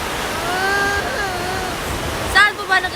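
A river rushes with a steady, full broadband roar that stays constant throughout, while a person talks over it near the end.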